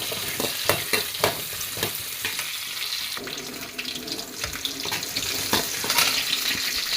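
Cinnamon, cloves, cardamom, shallots and garlic sautéing in oil in a pan for a green peas curry, with a steady close sizzle, scraping stirs and occasional clinks of the spoon against the pan.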